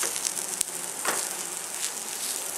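A tomato omelette fries in oil or ghee in a pan, producing a continuous soft sizzle with a few sharp crackles and pops scattered through.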